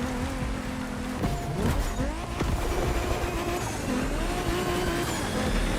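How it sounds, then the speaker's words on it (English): A BMW Z4 M40i driven in the racing game The Crew Motorfest: a loud sustained engine drone shifts pitch up and down, with bursts of tyre squeal and skidding and no talking. "We have prepared a classic for you from a very famous German brand, the BMW Z4 M40i."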